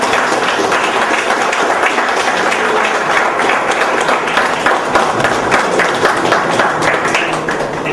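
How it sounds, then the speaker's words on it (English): A crowd gives a round of applause after a talk, dense and steady clapping that stays loud throughout without any voices standing out. "So let's give a big round of applause."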